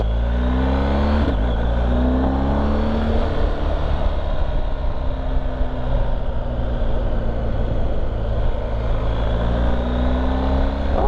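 A 2020 BMW R1250 GS HP motorcycle is ridden with a loud, close engine drone that shifts pitch as it accelerates and changes gear, alone without talk.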